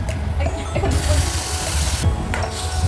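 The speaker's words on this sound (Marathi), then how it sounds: "जो गरम पाणी करत ठेवलेला ना तो पण त्याच्यात टाकून घेऊया" Hot water is poured from a vessel into an upma mixture, a steady, close splashing stream that fills the short stretch with only brief changes in flow.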